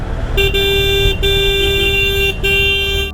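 Vehicles stuck in a heavy traffic jam on a narrow hill road in Kalimpong, a loud sustained horn blaring in three long blasts over engine idle.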